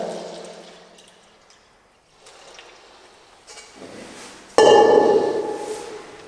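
Water pours into epoxy for a garage floor coating in bursts of liquid splashing and trickling, faint at first and then a louder, closer pour near the end.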